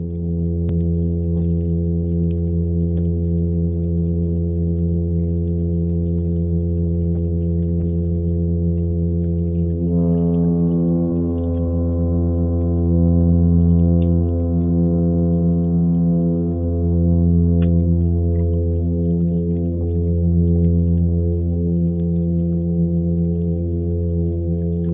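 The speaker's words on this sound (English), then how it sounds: "But fishes have voices too. And some sound like the most magnificent foghorn." A vocalizing fish gives a deep, foghorn-like hum, a continuous rich harmonic drone held for the whole stretch, its pitch stepping up slightly partway through, with no other sounds.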